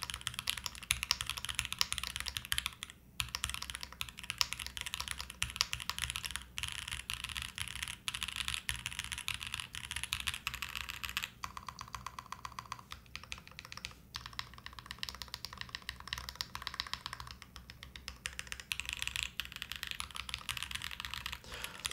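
Rapid typing on a Bear65 V2 mechanical keyboard fills the clip with close, crisp clacks in quick bursts and short pauses throughout.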